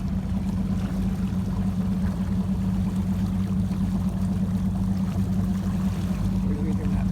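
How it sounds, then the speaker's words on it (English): Evinrude ETEC 150HO outboard motor pushing a 1979 Glastron CVX16 boat across Cass Lake, a steady low engine drone with water rushing along the hull, loud and continuous. "What do you think of that motor? Isn't that quiet?"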